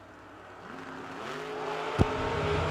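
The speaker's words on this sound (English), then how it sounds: "Nice wheel stand for Miller" Drag racing cars launching down the strip at a RAD Torque Systems event: engine roar rising and building in pitch as the cars accelerate away, with a sharp bang near the end, no talk.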